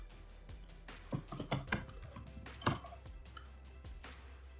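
Keys clicking on a computer keyboard as a password is entered, an irregular run of quick, light taps with short pauses, close and fairly quiet, with no speech.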